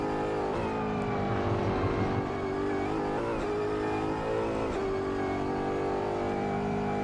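Steady, loud engine drone of V8 Supercars racing cars in a video game, heard from inside, with rising and falling revs and gear changes, continuous throughout.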